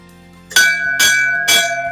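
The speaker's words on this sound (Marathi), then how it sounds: "आणि हा घंटा सुद्धा तीन वेळा वाजवला" A metal temple bell at a Chinese temple in Mumbai rings three times in quick succession, each strike bright and clear with a lingering shimmering tone.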